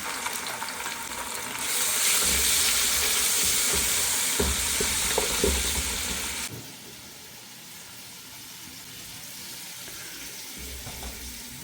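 Onion with ginger and garlic paste frying in a pan for khichuri, a steady close sizzle with a few clinks of stirring, louder at first and then settling to a softer hiss.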